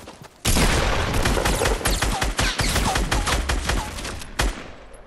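Dense, sustained video-game gunfire in a frantic firefight: rapid overlapping shots and bursts roll continuously for about five seconds after a brief quiet start, loud and close, with several sharper individual cracks standing out.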